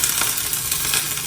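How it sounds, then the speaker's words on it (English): Broccoli drops into hot oil, hissing and crackling in a dense, steady sizzle that stays loud and close throughout this brief moment. "Oh, you hear that? It's sizzling."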